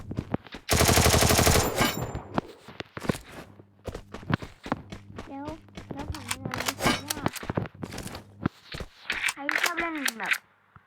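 Rapid gunfire in a shooting video game, including sniper shots, opens with a long loud burst and then scattered shots and footsteps, with a person talking over the action.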